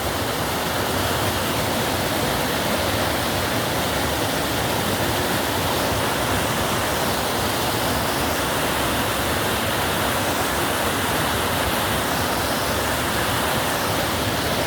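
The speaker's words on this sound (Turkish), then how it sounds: "Bakın yerden resmen yukarıya doğru çıkıyor su." Spring water surging up out of the ground at the Kapız spring in Ermenek, a loud, dense and constant rushing roar, close and unbroken, with no voices over it.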